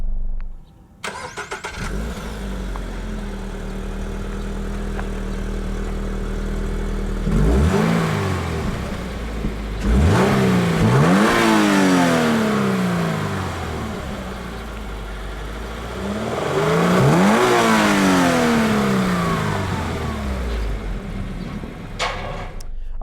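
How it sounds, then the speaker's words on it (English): A 2022 Toyota GR86 sports car idles, then revs hard several times in rising and falling sweeps through its dual exhaust, loud and close, with a deep exhaust note. "integrated dual exhaust outlets that pump out a much better sound than the previous generation Toyota 86"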